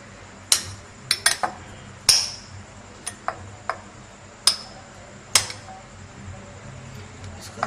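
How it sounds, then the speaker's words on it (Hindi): A spoon mixes butter into a paste in a bowl, giving sharp, scattered metallic clinks and taps close by, irregularly spaced with quiet gaps between them. "इसको अच्छी तरीके से हम चमचे की मदद से इसका हमने पेस्ट बना लिया है।"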